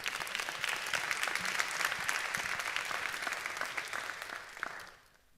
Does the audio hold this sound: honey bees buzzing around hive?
no